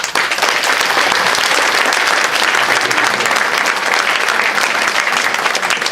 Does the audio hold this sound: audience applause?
yes